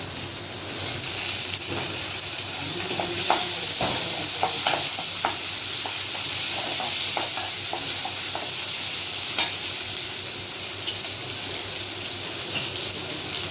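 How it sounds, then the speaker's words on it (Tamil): Tomatoes sautéing in a pan with onion and curry leaves for an okra stir-fry make a constant close sizzle, overlaid by repeated spatula scrapes and taps in an irregular rhythm, with no talking. "கொஞ்சம் வடங்கு வாட்டி தக்காளி வதங்கி வச்சு தக்காளி"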